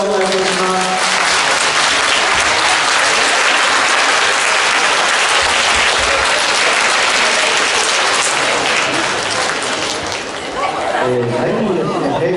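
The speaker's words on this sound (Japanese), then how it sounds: "会場の皆様、もう一度大きな拍手をお願いいたします。" A hall audience gives loud, sustained applause after a taiko drum performance by the Date no Kurofune Taiko preservation group at a school event in Ogatsu, Japan. Dense clapping fills most of the stretch and then tapers, with an announcer's voice near the start and end.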